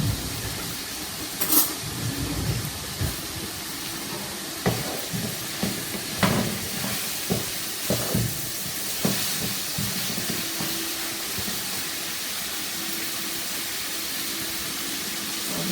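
Cold cooked white rice goes into a hot skillet and sets off a broad, steady sizzle with a hiss. Spoon scrapes and small clatters sound at irregular moments over the constant frying.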